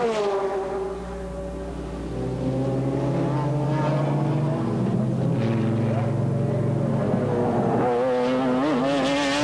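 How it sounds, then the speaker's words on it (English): Ferrari F40 turbo race cars and BMW V12-powered McLarens at a 1996 race in Curitiba howl past, with rising and falling engine notes that overlap and climb in pitch as they accelerate under a commentator's voice. "Turbo cars, of course, against the atmospheric V12s of the BMW powered McLarens."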